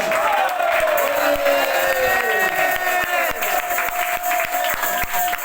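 A church congregation at a revival service cheers and applauds, sustained and loud, with shouts and a singing or sustained voice over the crowd noise.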